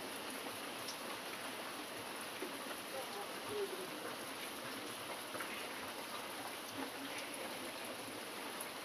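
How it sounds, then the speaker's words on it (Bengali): Torrential rain falls over waterlogged Kolkata streets during a thunderstorm, a constant faint hiss of downpour with no break. "বাপ রে বাপ, কি বৃষ্টি"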